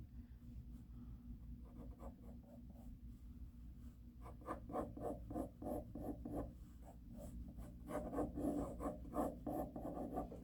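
Pencil scratching across paper while sketching a fantasy comic character, soft rhythmic strokes that grow denser and louder toward the end, close and alone over a low steady hum.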